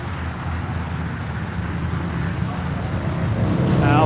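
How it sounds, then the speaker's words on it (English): A green Pontiac GTO at a Hot Rod Drag Week 2025 route stop. A steady, loud engine rumble runs throughout and swells slightly toward the end, with wind noise on the microphone. "This car here sounds freaking amazing."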